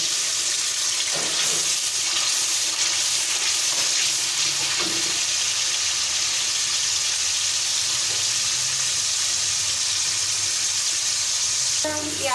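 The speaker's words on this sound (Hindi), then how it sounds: "हम प्याज को भून रहे हैं।" Ground onion paste fries in hot oil, making a loud, continuous sizzle with faint stirring scrapes mixed in, close by.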